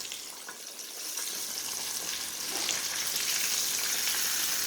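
Sea mullet fish fry in hot grease, a steady, bright crackling sizzle that swells a little louder partway through and keeps going without talk.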